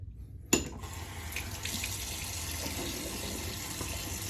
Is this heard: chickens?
no